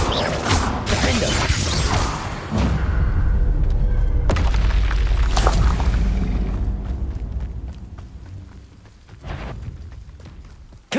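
Spell blasts from Hogwarts Legacy, such as Bombarda and Confringo, burst in heavy booming explosions with whooshes and crashing debris, dense and loud before fading into quieter rumbling and a final sharp hit.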